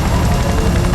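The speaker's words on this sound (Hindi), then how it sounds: "वो हेलीकॉप्टर हमारे सिर के ऊपर मंडरा रहा है।" A helicopter hovers directly overhead, a loud, dense rotor roar with steady thumping that fills the whole moment without any break.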